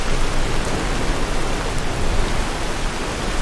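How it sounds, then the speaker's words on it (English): Heavy rain in Skyrim pours down in a dense, constant hiss that fills the whole soundscape, loud and unbroken with no voices. "I do enjoy just how loud the rain is."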